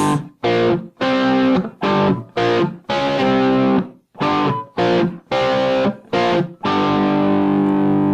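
A distorted electric guitar plays a riff in choppy, short, loud chord stabs separated by brief silences, ending on a sustained ringing chord.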